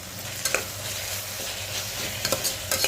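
Ginger-garlic paste for vegetable brinji being stirred and fried in a pan, a close, steady sizzle broken by a few sharp scraping strokes of the spoon, with no talking.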